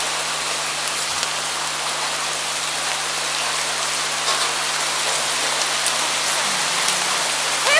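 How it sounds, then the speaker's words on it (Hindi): Heavy rain pours steadily over farmland as a dense, even hiss that holds at the same loud level throughout, with no voices. "भारी वर्षा होने वाली है।"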